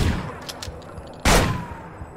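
Gunfire in the video game Manhunt, where an enemy has a sniper rifle. Faint distant pops come first, then one loud, close, sharp shot at about the midpoint that trails off with a lingering echo.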